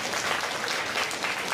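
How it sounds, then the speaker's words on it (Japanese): A crowd at Tokyo DisneySea bursts into dense, sustained applause, many hands clapping together at close range with no voices over it. "みんな彼に励ましの拍手だ"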